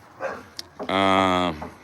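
A dog barks once close by, a loud sustained yelp-like bark after a couple of faint short sounds, with people talking around it.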